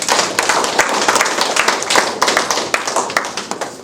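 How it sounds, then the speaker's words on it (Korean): A congregation claps at a Caleb fellowship breakfast prayer meeting after a worship song. The applause is close, dense and steady, with sharp individual claps standing out and no talk over it. "다시 경의의 박수 보내주시기 바랍니다."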